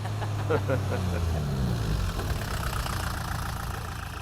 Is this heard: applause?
no